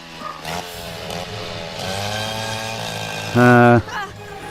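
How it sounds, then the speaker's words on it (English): Chainsaw revving in a My Little Pony cartoon scene, a steady buzzing drone with one loud surge near the end, mixed with cartoon voices and background music. "apparently they have chainsaws in Equestria"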